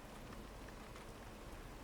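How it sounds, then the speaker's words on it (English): Steady rain falls in the train simulation game Derail Valley, a continuous even hiss of raindrops on surfaces with no talk. "as it is raining again and the rain sucks"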